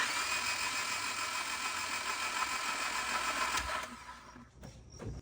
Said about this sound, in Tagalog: ikakrank ko yung engine for 2 to 3 seconds